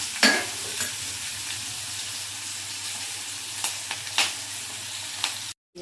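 Sliced onion and green chillies fry in a pan with a continuous close hiss, broken by a few brief scraping stirs, and the sound cuts off abruptly at the end.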